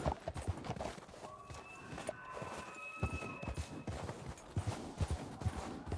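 Horse hooves clip-clop at a steady walking rhythm in Red Dead Redemption 2, close and moderately loud, with a faint high tone lingering in the background and no talking.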